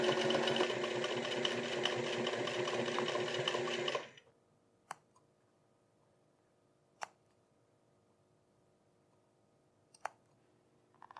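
A sewing machine runs steadily for about four seconds while stitching buttonholes on a quilted workwear vest, then stops, followed by a few isolated sharp clicks in the quiet.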